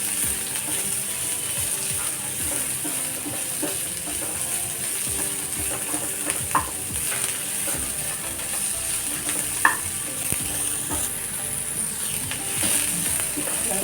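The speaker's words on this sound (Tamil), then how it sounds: "சட்டி வச்சு காஞ்சதும் கொஞ்சமாக எண்ணெய் விட்டு வெங்காயத்தை போடுவோம்." Onions fry in a little oil in a hot pan with a steady, close sizzle, broken now and then by faint clicks and scrapes of a utensil.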